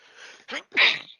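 A person at a tabletop game session sneezes twice, a short soft burst followed by a sharper, louder one, heard close and alone.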